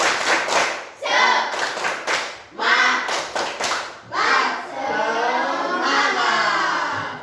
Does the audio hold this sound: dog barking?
no